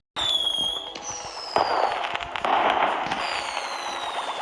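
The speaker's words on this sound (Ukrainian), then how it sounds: "Той салют дуже заважає." Fireworks crackle and pop continuously, with whistling rockets rising in pitch and sharp bursts scattered throughout, moderately distant.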